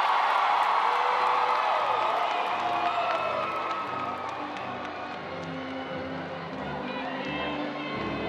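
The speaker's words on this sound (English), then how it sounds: "One last applause as they exit the building, the class of" A graduation audience cheers and applauds as the class of 2016 exits the building, a dense sustained roar of clapping and whoops with voices calling over it, gradually easing.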